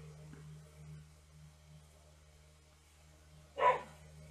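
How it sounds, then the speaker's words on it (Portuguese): One short dog bark sounds late in the clip, a single sharp yelp over a steady low electrical hum in an otherwise quiet room. "o cachorro começou a latir"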